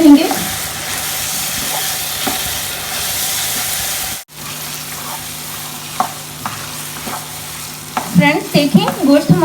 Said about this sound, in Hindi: इसको 2-3 मिनट तक हम इसको ऐसे ही भूनते रहेंगे।